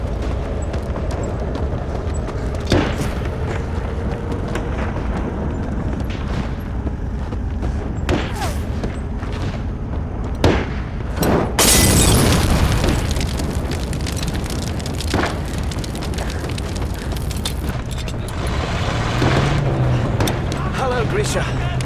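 Explosions and blasts in a war movie battle scene, with a loud burst around the middle and several sharper booms and thuds scattered throughout, mixed with rumbling battle noise and voices.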